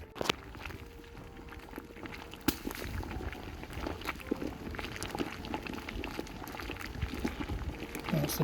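Beer wort bubbles at a steady rolling boil in a brewing kettle, a continuous low churning and popping, with scattered knocks and clanks of equipment and voices talking nearby.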